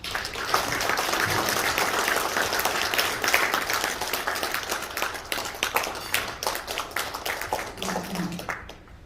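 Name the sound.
applause welcoming a pastor to the stage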